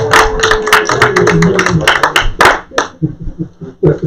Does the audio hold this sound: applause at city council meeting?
yes